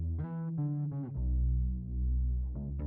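Bass notes run through a Pultec-style EQ, deep sustained low tones with a thick, boosted bottom end, a couple of short notes followed by a long held one.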